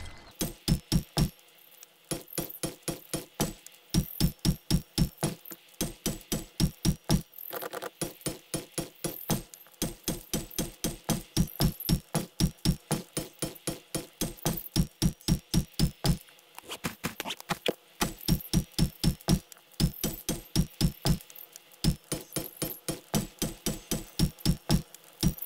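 Rapid, regular hammering knocks from upgrading building blocks with a wrench in the survival game 7 Days to Die, a long steady run of close, crisp strikes with brief pauses, no talk.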